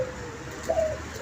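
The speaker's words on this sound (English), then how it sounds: "Doves for peace." A caged dove gives a low, steady coo, moderately near, with a short swelling note near the end against a quiet background of other birds.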